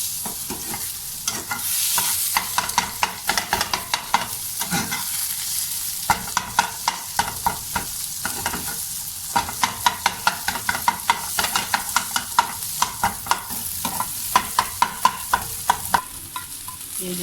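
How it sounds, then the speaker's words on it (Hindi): Beaten egg frying in a pan for chicken fried rice, chopped into small bits with a spoon: a steady close sizzle runs throughout, broken by many sharp scraping taps of the spoon against the pan, coming quicker in the second half. "ये हमारा अंडा फ्राई हो चुका है। इस तरह से हमने छोटा छोटा सा कर लिया।"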